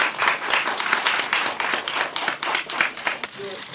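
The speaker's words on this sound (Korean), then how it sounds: "여러분 축하의 박수 부탁드립니다." Audience applause fills a ceremony appointing ambassadors, steady clapping from a crowd with a few voices mixed in, sustained throughout.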